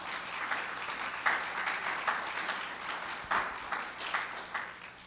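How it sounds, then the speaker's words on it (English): Steady audience applause at a Veteran's Day event honoring a student serving in the military, a sustained wash of many clapping hands with a few louder bursts, filling the room without speech. "Let's give her a round of applause."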